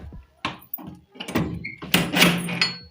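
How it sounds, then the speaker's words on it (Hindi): A door is shut at home with a few dull thuds and knocks, mixed with shuffling and movement sounds nearby, over a few seconds. "पहले ना दरवाजा बंद कर दूं,"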